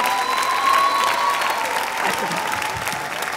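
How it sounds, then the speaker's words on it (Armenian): Audience clapping at a national singing contest gala concert, sustained, loud and even applause filling the hall throughout, with a faint voice over it. "Եվս մեկ անգամ ծափարենք"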